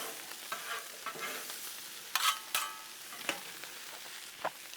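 Jalapenos and onion fry on a Blackstone griddle with a soft, low sizzle. A spatula scrapes and taps now and then, with a cluster of louder strokes in the middle.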